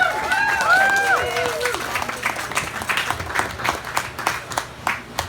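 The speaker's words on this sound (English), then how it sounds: "I think they deserve a round of applause." Audience applause at a family celebration speech, starting under voices and then settling into scattered, rhythmic clapping from a modest crowd that gradually thins out.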